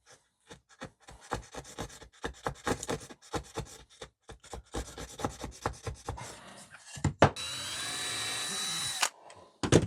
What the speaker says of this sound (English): Here I'm cutting a groove into the wood for the round part or the ends of the hinges.